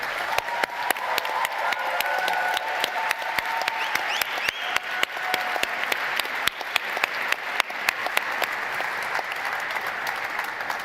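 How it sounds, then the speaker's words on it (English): An audience at the PES Congress applauds steadily for around ten seconds, a dense even roar of many hands clapping in a large hall, with a few sharper claps standing out. "So now you can give an applause."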